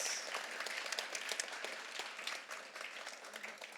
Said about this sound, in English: big round of applause for all our academic honors.